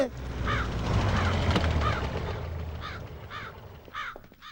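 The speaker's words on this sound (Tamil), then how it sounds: "மேல படுத்த காக்கா கீழ வருது" A crow caws repeatedly in a comedy film scene, several harsh calls spaced across the moment over background noise and a low hum.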